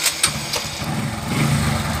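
Shogun Pro 125 motorcycle engine catching after a couple of sharp start attempts, then settling into a steady, loud, slightly rough idle close by, with a carburetor problem making it sound loaded.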